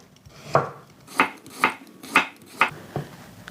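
A knife chops carrots into thick julienne strips on a cutting board, six crisp evenly spaced strokes, close and clear with no talking.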